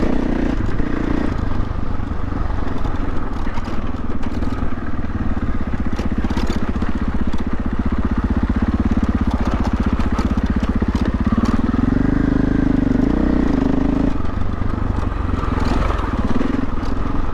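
A KTM off-road dirt bike, either the 500 EXC-F or the 890 Adventure R, runs on a trail, its engine droning loud and steady throughout with a pitch shift near the end as the throttle changes.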